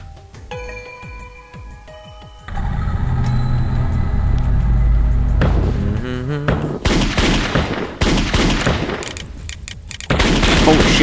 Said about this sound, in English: Go turret, go. I want to see what this turret can do.